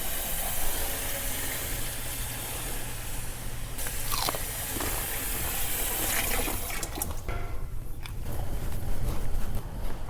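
Tap water runs steadily into a cooking pot in a home kitchen, a continuous bright rushing splash with a few clanks of the pot, and no talking.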